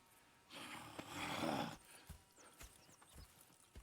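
In Red Dead Redemption 2, a horse whinnies loudly for about a second, followed by a scatter of soft hoof clops and snorts at moderate distance.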